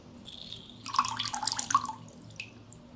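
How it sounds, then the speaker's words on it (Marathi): Lemon juice squeezed into spicy pani puri water makes a short burst of close, quiet drips and small splashes in the middle, then fades back to near silence. "आता याच्यात लिंबू पिळून घेऊ."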